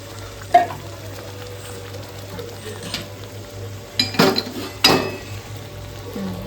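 Masala-coated paneer stirred into an oily gravy in a pan: a low steady sizzle broken by a sharp utensil knock early on and two bursts of scraping and frying near the end, no voices.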